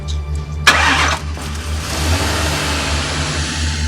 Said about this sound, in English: This car is not starting your whole.